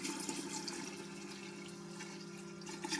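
Water pours and splashes steadily into a pressure washer outdoors, a close, continuous wash of sound lasting about three seconds.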